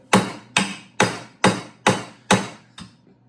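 A mallet strikes a part into place on a Nissan 550sx build in a workshop, seven sharp, evenly spaced whacks at close range, the last one softer, with no talk.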